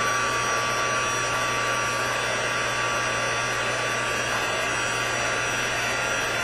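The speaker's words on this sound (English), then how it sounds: "we're just going to heat this up. It's going to take a minute for my gun here to get hot." A heat gun warms up for a spritzed watercolor background craft project, giving a steady, close blowing hiss and hum that holds evenly the whole time, with no speech.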